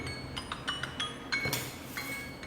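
A spoon clinks against a container while stirring Backpacker's Pantry creme brulee dessert, with a series of light, close metallic taps and scrapes in an irregular rhythm, no voices.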